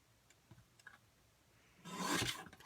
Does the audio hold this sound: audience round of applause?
no